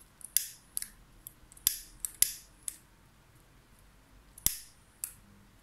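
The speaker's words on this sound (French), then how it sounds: "Alors, mon ruban, j'en coupe un bout." Scissors snip through a piece of ribbon in a crafting setting, about eight sharp, close clicks spaced irregularly with quiet gaps between them.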